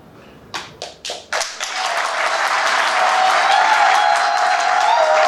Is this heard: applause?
yes